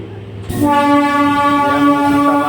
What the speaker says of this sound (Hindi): यहाँ से हमारी ट्रेन निकल चुकी है।